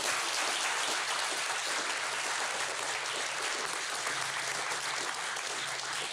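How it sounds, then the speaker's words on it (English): Sustained applause from an audience at the closing of a CSS conference, a dense, even wash of clapping that carries on steadily without a break and with no talking over it. "one more round of applause to everyone"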